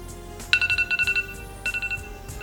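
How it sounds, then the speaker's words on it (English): A phone alarm ringtone chirps in two quick bursts of rapid electronic beeps, a longer run followed by a shorter one, over low background hum. "Please tell me you've changed your alarm sound."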